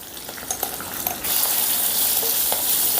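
Tempering for raw mango pulihora sizzles in hot oil as asafoetida and half a teaspoon of turmeric go in; a light crackle with scattered pops swells into a loud, steady sizzle partway through, with no talking.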